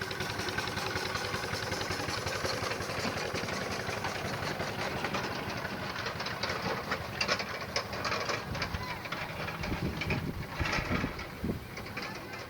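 A small-scale miniature steam traction engine chugging past in an outdoor parade, a continuous low mechanical rumble and rattle with rhythmic knocking, moderately faint with ambient outdoor noise throughout.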